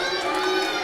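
A street crowd at a UK Pro Wrestling show on Bexleyheath High Street roars and cheers steadily for wrestler Tyler Walker, a dense sustained wash of voices without pause.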